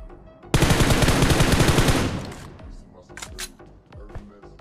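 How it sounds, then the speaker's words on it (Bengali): Rapid automatic gunfire from enemies in PUBG mobile gameplay, a loud sustained burst of machine-gun shots lasting about a second and a half, then scattered fainter shots and game sounds. "তো উপর থেকে ফায়ার করছিল দুইটা এনিমি"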